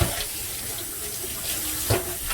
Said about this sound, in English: So I start off with some cold water, maybe a little warm, like a lukewarm, and I'm just gonna go through and rinse.